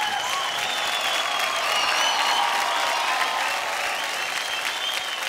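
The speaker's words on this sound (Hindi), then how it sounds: "जोरदार ताली हो जाए गीता की गैंग के" Studio audience at a Dance India Dance TV show applauding a dance group, sustained loud clapping with crowd noise and cheering, and faint whistles or tones weaving through it.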